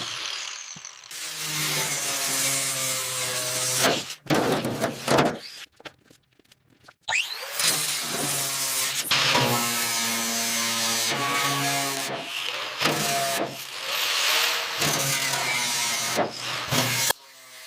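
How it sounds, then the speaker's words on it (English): Angle grinder disc scraping rust off a metal panel of an abandoned 1940s Railway Express truck, loud and close in long grinding passes with harsh rasping and a few brief pauses, no talking. "The rotating disc meets the metal."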